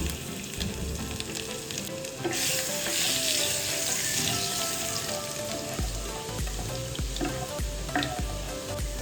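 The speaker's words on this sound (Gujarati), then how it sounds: "આપણે ત્રણ ચાર ચમચી જેટલું તેલ એડ કરશું આપણે અડધી ચમચી અજમો એડ કરશું થોડી હિંગ એડ કરશું ઝીણું કટ કરેલું આપણે લસણ એડ કરશું" Carom seeds, asafoetida and finely chopped garlic hit three or four spoons of hot oil, a loud continuous close sizzle that swells and crackles, with occasional stirring scrapes and no voices.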